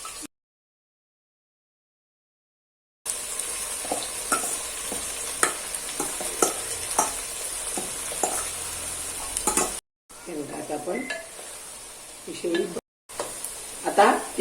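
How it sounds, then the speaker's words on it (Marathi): Shevli vegetable being stir-fried in a hot spice tempering over medium heat, a steady sizzle with frequent stirring scrapes, broken by a few brief silent gaps. "शेवडी आपण परतून घेणार आहोत थोडस मिडियम गॅस ठेवायचा"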